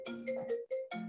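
Phone ringtone from an incoming call during an online webinar, a short melodic electronic tune of a few bright tones with a brief gap, heard alone and fairly quiet.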